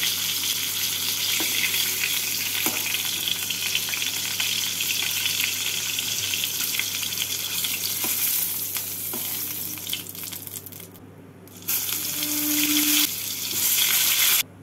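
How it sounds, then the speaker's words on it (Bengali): Pieces of gourd fry in hot oil with a continuous loud sizzle and crackle, briefly dipping before the hiss resumes strongly. "এইভাবে বাকি পটলগুলোকেও ভেজে নেব"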